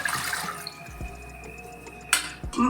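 Water splashes and gurgles briefly into a thick-bottomed pot for ragi sangati, close by, with a couple of soft knocks and a short louder splash near the end.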